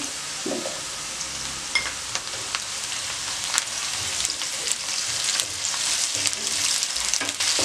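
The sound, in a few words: ginger frying with onions in pan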